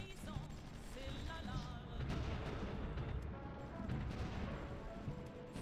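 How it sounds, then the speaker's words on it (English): Distant artillery fire in the World War I strategy game Supreme Ruler The Great War, a steady rumble of booms and crashes rolling through the background at moderate level, with no talk over it. "Oh, we're getting artillery down here."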